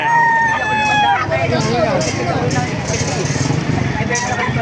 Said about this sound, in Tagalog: Maraming manok dito makamaster sa Baliwag.